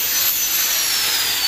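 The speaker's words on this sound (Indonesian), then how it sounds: "langsung kita bor bagian atas, kita putus dulu" Continuous, steady grinding whir of a drill boring into an aluminium sliding door frame, loud and close, with no pauses and no talk.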